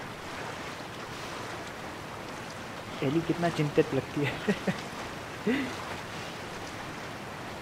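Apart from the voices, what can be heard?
water and waves as Ellie floats, The Last of Us video game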